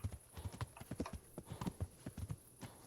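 Horse hooves clip-clop in a steady walking rhythm in the medieval game Kingdom Come: Deliverance, a faint, close series of hollow clops with nothing else prominent.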